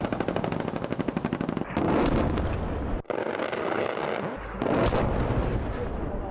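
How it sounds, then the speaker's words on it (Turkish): Weapons firing during the EFES 2024 military exercise, with a rapid machine-gun rattle followed by heavy booming blasts and rumbling bursts, loud and continuous with no speech. "Nefes kesen tatbikatta yerli ve milli silahlar görücüye çıktı."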